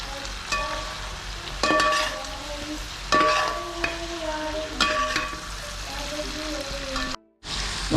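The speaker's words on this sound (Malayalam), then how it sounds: "ഫ്രൈ ആക്കി വെച്ചിരിക്കണം ചിക്കൻ അതിലേക്ക് ഇടുകയാണ്. ഇത് നന്നായിട്ട് മിക്സ് ചെയ്ത് കൊടുക്കുക." Fried chicken is tossed into sautéed garlic in a pan for Kerala-style chilli chicken, loud close sizzling with bursts of scraping and clattering stirs, then a brief dropout to silence near the end.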